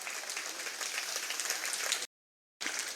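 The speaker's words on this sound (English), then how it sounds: "Would you give him a round of applause?" A crowd applauds steadily with dense clapping for about two seconds, then a brief silent gap before the clapping resumes.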